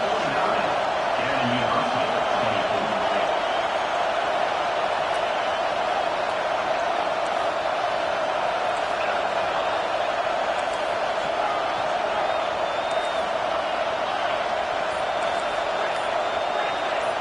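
A football crowd roars steadily behind the defense on a big third down, a dense, constant wash of cheering that holds at the same loudness throughout, with an announcer talking over it.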